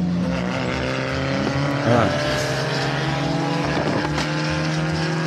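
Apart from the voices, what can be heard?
race of Fiat Uno cars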